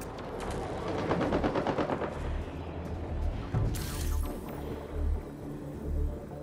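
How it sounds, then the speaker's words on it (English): Automated turrets fire in Mass Effect Andromeda, a dense burst of rapid gunfire followed by a few heavy booms, loud and close with no speech. "Those are turrets."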